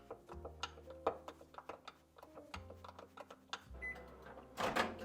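A microwave oven running while melting chocolate for homemade peanut butter balls, a steady low hum under clicks, clatter and rattling mechanism sounds, ending in a brief beep and a burst of rustling.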